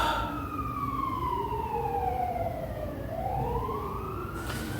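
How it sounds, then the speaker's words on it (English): An emergency vehicle siren, an ambulance or police car, wails in long rising and falling sweeps over steady traffic rumble, moderately loud and passing nearby outdoors, with no voices. "it's an ambulance, police, whatever they are."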